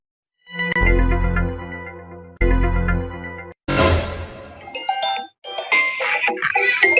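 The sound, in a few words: phone ringing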